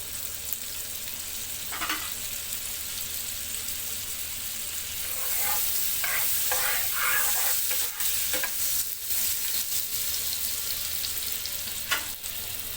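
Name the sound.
potatoes shallow frying in butter and oil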